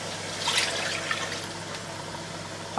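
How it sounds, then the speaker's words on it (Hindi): Water poured into browned meat for dal gosht, a steady splashing pour running close and moderately loud for a few seconds before ending abruptly. "अब आप इसमें ऐड करेंगे पानी।"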